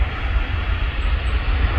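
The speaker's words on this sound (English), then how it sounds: "So wait for that to taxi over and we'll get that on a takeoff run" A Jet2 Boeing 737 airliner on its takeoff run is heard from a distance as a steady, loud engine roar dominated by deep rumble with broadband hiss, continuous throughout with no speech.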